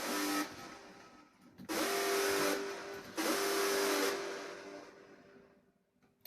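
A hardstyle screech lead synth in the style of a signature sound, built in FL Studio: harsh, bright, buzzing sustained bursts with a steady pitched tone, three long stabs separated by short gaps, fading into quiet tail noise.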